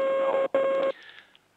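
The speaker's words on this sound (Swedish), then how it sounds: "Vad du piper. Vad konstigt det låter." Two loud, steady electronic beeps sound on a telephone line, the first cut off briefly before the second, then fading into a faint trailing tone.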